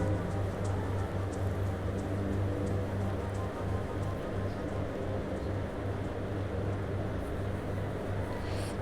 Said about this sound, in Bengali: পেঁয়াজটা এবার আমি তেলের মধ্যে দিয়ে ফ্রাই করতে থাকবো যতক্ষণ পর্যন্ত না পেঁয়াজটা বেরেস্তা হয়ে আসে